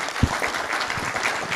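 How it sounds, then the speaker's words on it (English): Audience applause at a leadership keynote address, a steady wash of many hands clapping that fills the room for a brief stretch, with no voices over it. "Big round of applause for them."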